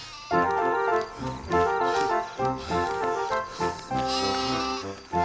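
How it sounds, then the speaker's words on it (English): Several cartoon sheep bleat in wavering, nasal calls, one after another, loud and close with short pauses between cries. "Get back with the other sheep."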